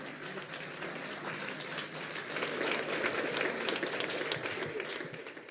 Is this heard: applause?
yes